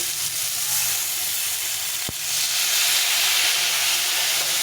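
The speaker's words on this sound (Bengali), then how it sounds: "এটাকে ভালো করে নিয়ে ভেজে নিতে হবে।" Salt, turmeric and a splash of water frying with spices in a pan give a steady, close sizzling hiss throughout, with one brief sharp click partway through and no voices.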